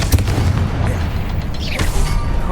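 Confringo spell explosion in the Hogwarts Legacy video game, a loud booming blast with a rumbling low burst and crackling debris tail, close and heavy, followed by lingering rumble.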